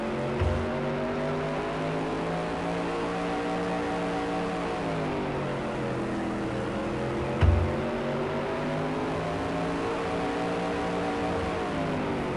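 Race cars circle Mesa Marin Raceway during the SUPRS Billy Vukovich III Classic 100, a continuous engine drone heard from the cockpit that rises and falls in pitch through the laps, with a couple of brief thumps.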